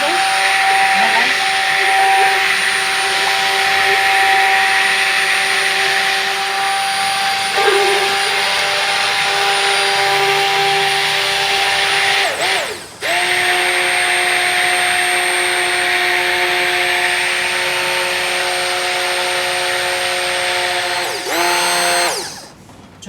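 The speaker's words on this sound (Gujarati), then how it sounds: "બ્લેન્ડર આમ ફેરવી દઈને આ અંદર કરવાનું" A blender churning chilled cream (malai) runs as a loud, steady motor whine for over twenty seconds, with brief dips in pitch near the middle and again near the end.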